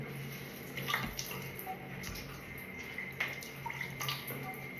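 Quiet splashing and dripping water shaken out of a wet military beret, with small irregular spatters and trickles close by.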